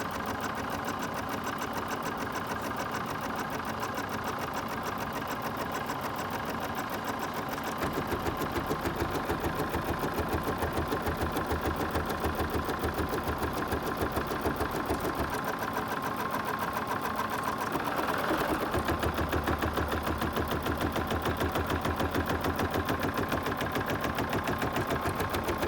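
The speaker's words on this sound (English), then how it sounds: "it is going to stitch out all the placement lines for us" A home embroidery machine stitches out placement lines with a fast, continuous mechanical whir and rapid needle chatter, steady and close, picking up speed partway through.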